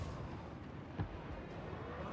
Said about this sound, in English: The mortar shot's coming down.